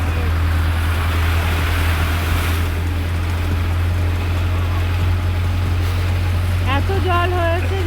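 A bus approaching on a wet road after heavy rain gives a steady, loud low engine rumble with broad traffic noise throughout, while a person talks over it.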